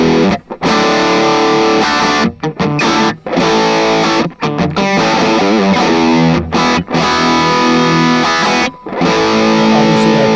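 Electric guitar played through a Flamma FG200 multi-effects pedal, loud and heavily distorted, with sustained chords and riffs broken by a few brief silent gaps between phrases.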